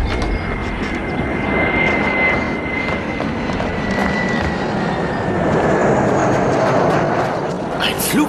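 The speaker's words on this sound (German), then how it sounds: "Flugzeug." Airplane flying overhead, a steady broad roar with a faint high whine, continuous and fairly loud throughout.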